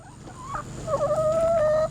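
A short, close fowl call with a wavering, drawn-out tone rising out of quiet farmyard background; a chicken-like cluck and squawk.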